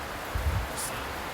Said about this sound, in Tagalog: Inabutan na nga ng ulan.